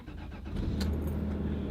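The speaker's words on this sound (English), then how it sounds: "take a listen to the engine as we start it up" A used SUV with 386,000 miles starts on a cold morning: a brief key rattle and crank, then the engine catches and settles into a smooth, steady idle, heard up close from inside the cabin.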